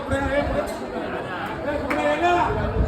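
A dense crowd of devotees waits in a temple darshan queue, with many overlapping voices chattering close by in a continuous murmur.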